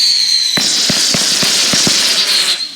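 Fourth of July fireworks exploding outdoors, a series of about seven sharp pops and crackles in quick uneven succession over a steady high hiss.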